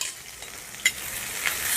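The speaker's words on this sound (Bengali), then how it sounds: "আমার পেঁয়াজ আর আদা রসুন ভাজা হয়ে গেছে" Chopped onion, ginger and garlic sizzle steadily in a pan, a close continuous frying hiss broken by one sharp clink of a spoon against the pan and some stirring scrapes.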